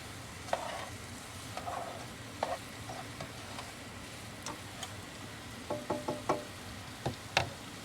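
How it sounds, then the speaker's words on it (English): Sauce with smoked sausage bubbling and simmering in a pot inside a van, a soft steady sizzle with scattered light ticks, pops and faint utensil knocks, quiet and close, without talking. "I'm just going to let this boil, get the actual sauce in there as well, and the smoked sausage"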